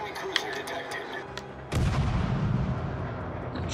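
Naval guns fire in the World of Warships Legends game, a sharp report followed by a heavy, sustained rumbling boom, with someone talking quietly over the quieter opening.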